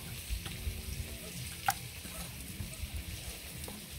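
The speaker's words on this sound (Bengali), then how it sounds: "আগে ভাজি দেয় ভেজে তারপরে তরকারি রান্না করবো" Small fish sizzle in hot oil in a home kitchen, a steady soft crackle with a few sharper pops and light stirring clatter, moderately quiet and without any voice.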